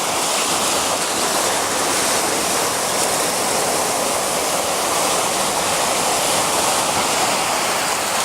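Steady, loud rush of ocean water in Okinawa, a constant broad roar like surf washing in, with no pauses or voices.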